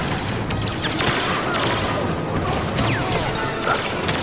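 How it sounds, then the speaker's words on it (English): A rocket slams into an enemy in Star Wars Battlefront amid constant crashing, blasting combat noise, with several sharp impacts standing out from the dense din. "Hit him with the rocket."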